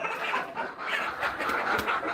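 Chickens clucking continuously at close range while dust bathing in soil on a poultry farm, a busy overlapping flock sound with no talk.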